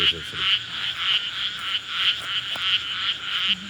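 Frogs croak outdoors during a nighttime exploration, a continuous high, rattling chorus that pulses rhythmically and close, with faint human sounds underneath.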